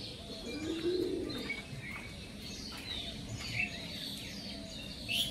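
Soft pigeon coos sound faintly against a quiet outdoor background, with a few light chirps scattered throughout.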